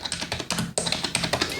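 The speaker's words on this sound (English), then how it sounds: "Who are you typing to?" Rapid typing on a computer keyboard, a dense run of close, crisp key taps at a quick uneven rhythm, heard alone without talk.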